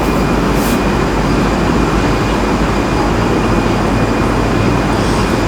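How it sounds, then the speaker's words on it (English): An airplane takes off in the flight simulator game Infinite Flight, with a loud, steady broadband engine roar that holds constant throughout, with no talk over it. "So pretty good takeoff that."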